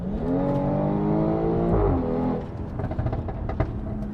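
A BMW X3 M40i launches hard from a standstill, its engine droning at high revs with rising tones, then a gear change and more revving close by inside the cabin.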